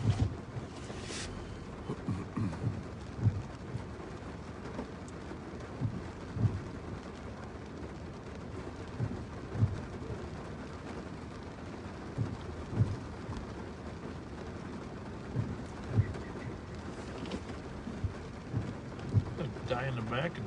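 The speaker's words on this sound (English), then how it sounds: "It's starting to rain now." Rain falls during a police ride-along in a patrol car on a Minnesota highway, a faint steady patter and hiss mixed with low rumbling road noise and occasional thumps. Quiet voices speak inside the car.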